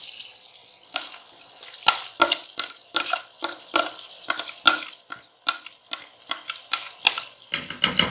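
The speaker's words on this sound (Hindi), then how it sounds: "गाजरें जो दूध के साथ हमने पकाई है वो ऐड करेंगे" Milk-cooked carrots for gajar ka halwa are stirred in a pan with sugar, pistachios and almonds, giving a close, irregular series of wet scraping and sizzling strokes.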